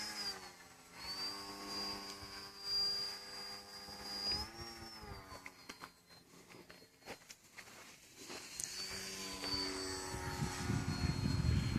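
An electric RC model plane flies at full throttle on a calm day, its high motor and propeller whine holding steady and then shifting pitch as it passes, with a rough rumble swelling near the end.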